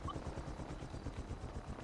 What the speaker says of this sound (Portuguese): Olha, aterrou aqui o helicóptero.